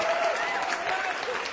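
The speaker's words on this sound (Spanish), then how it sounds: "Démosle un gran aplauso a Opo y a toda esa gente" Steady applause from a crowd at a tribute to Opo Marin, many hands clapping densely and evenly through the whole moment.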